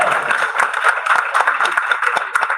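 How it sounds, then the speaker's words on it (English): An evening lecture audience claps steadily, a moderate, close patter of many hands that carries evenly through a short stretch without voices. "When I come up, we like a round of applause."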